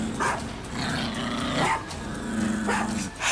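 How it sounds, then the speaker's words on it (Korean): A dog named Happy barks in a few sharp, separate yaps with a low growl between them, close by in a quiet room. "해피가 짖는 소리에 눈을 떠보니까"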